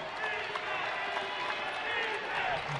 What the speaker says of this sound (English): The crowd chanting defense.